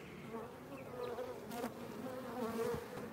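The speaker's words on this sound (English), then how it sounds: "We have to continue looking because there's so many everywhere in the hive." Dense, steady buzzing of many honeybees in an open hive during a frame inspection, a close continuous drone that swells slightly and stays loud throughout.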